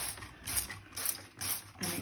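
A spray bottle of vinegar cleaner is pumped around a bathtub, giving three or four short, close hissing sprays in an even rhythm, quiet and with no talking.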